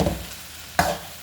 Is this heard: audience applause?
no